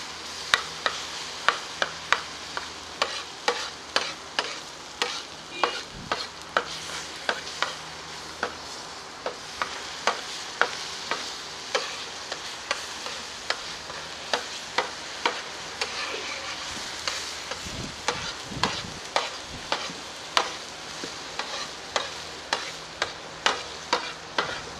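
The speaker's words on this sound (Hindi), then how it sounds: "तो थोड़ा सा भून लेंगे।" Ginger garlic paste frying with golden onions in a pan for bheja masala fry: continuous sizzling under rhythmic scraping strokes of a spatula, repeating roughly every second, close and clear.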